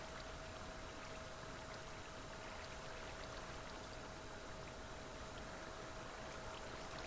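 In Minecraft, water flows from a placed water source onto stone blocks, making a soft, constant, even trickling rush at low volume.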